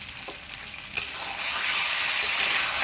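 Desi chicken fries and is stirred in a pan, giving a steady close sizzle with a few scraping stirs early on, the hiss swelling and holding loud; no talking.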